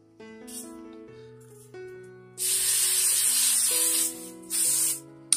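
Hairspray hisses onto a shaggy pixie cut with a heavy fringe in two sustained bursts, one long and one short, while soft music plays underneath.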